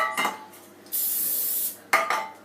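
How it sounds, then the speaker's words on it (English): Cooking oil spray hisses onto a pie dish in a short burst lasting under a second, framed by light clinks of the dish before and after. "So you can use butter, but we're just using good old-fashioned spray."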